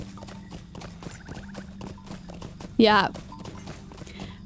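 Horse hooves clip-clop in a steady rhythm while a rider travels in The Lord of the Rings Online, with a short spoken word breaking in partway through over continuous game ambience.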